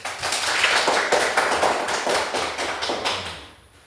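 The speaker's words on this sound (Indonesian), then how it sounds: "beri aplaus dulu" Applause from students in a classroom: steady, dense clapping from a group, close and continuous for several seconds before fading out at the end.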